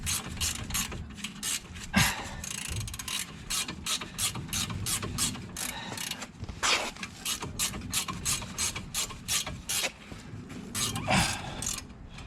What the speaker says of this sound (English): I can just finish them off with ratchet spanner.